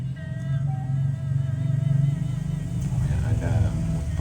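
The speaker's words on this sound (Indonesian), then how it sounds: "Ada motor lewat." A motorcycle passes by nearby, its engine rumbling and droning loudly and steadily, with talk continuing over the noise throughout.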